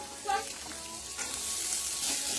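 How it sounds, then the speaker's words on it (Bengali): Onions and beans stir-fry in hot oil in a home kitchen pan, giving a steady soft sizzle with a few brief clatters of stirring, close and continuous. "আমি এখন তেলের ওপর পেঁয়াজ দিয়ে দিয়েছি, একে একে সবজি দিয়ে দিচ্ছি"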